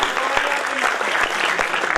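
Applause from the audience at a Hindi comic poetry gathering (hasya kavi sammelan): dense, continuous clapping from a large crowd that holds steady throughout.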